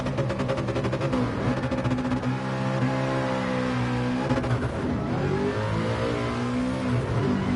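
A race car engine revs hard and sustained at Bathurst in GT Sport, a loud, continuous roar with rising and falling pitch as the car accelerates through gears, with no talk over it.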